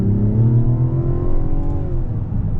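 A 2025 Mazda CX-70's inline-six engine revs steadily while driving, a loud continuous low drone with rising harmonics and no speech over it.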